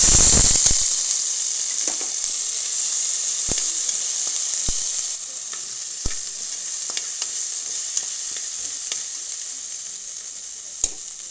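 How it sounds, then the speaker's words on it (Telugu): Ginger garlic paste frying in hot oil with cinnamon, cloves and cardamom for a restaurant-style biryani, a steady loud sizzle throughout with occasional stirring clicks and scrapes, no talking. "ఆయిల్ హీట్ ఎక్కగానే చెక్క లవంగం యాలకులు కొంచెం ఫ్రై అయిన తర్వాత అల్లం వెల్లుల్లి పేస్ట్,"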